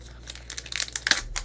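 Foil wrapper of a Pokemon TCG card pack crinkling and tearing as it is cut open, a close, steady rustle that grows louder with sharp crackles toward the end.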